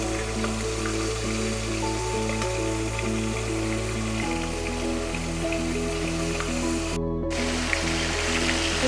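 Catla fish heads fry in oil under a lid, giving a steady rain-like patter of spattering over a constant humming tonal background, with a short break near the end.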